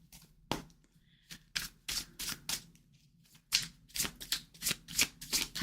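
Tarot cards are shuffled by hand for a single card pull, crisp riffling bursts repeating in quick irregular clusters, close and clear with no talking.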